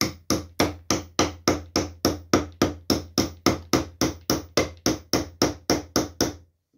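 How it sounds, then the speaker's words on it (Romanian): A hammer drives nails into classic wooden beehive frames with about twenty steady, evenly spaced blows, each a loud, close knock that rings briefly before the next, and no talking. "Acum le pot bate complet."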